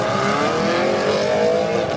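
Supercars drive away down an approach road at a runway car festival, a loud sustained engine roar with rising revs and a faint tire-squeal edge, close by, with no voices.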